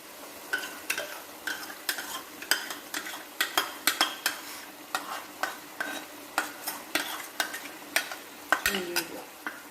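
A spoon stirs yogurt into a tomato masala in a pan, giving a steady rhythm of scraping, clinking strokes over a low sizzle, close and repeated throughout.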